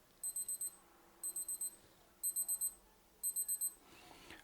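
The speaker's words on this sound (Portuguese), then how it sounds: "você vai fazer o teste de alarme, né, do som do alarme" Alarm on a Timex DGTL Sphere digital watch sounds four bursts of rapid high-pitched beeps, each group of about four quick chirps evenly spaced, faint and close with a quiet background.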